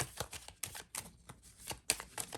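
Tarot cards shuffled by hand in a series of quick riffling bursts, close and fairly quiet, with no talking over them.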